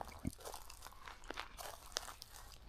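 Quiet close-up crunchy chewing, irregular bites and crackles of potato chips in a tuna and mayo tortilla wrap, with faint wrapper rustling, outdoors on a hiking trail.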